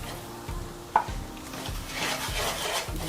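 Two sugars stirred into orange chicken sauce in a pan, with soft rhythmic scraping and rubbing and a faint sizzle, plus one sharp tap near the start.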